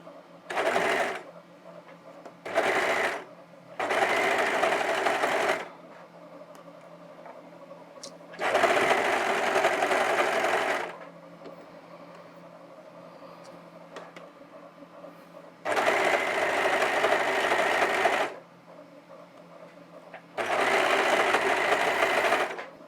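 A domestic sewing machine stitches fabric in five separate runs: two short bursts, then three longer whirring stretches with a steady mechanical buzz, close and loud, divided by quiet pauses.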